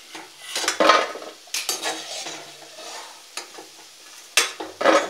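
Mathri, a crisp fried Indian snack, is turned in hot oil over medium heat, with bursts of scraping, stirring and clinking from a utensil in the pan over a soft sizzle.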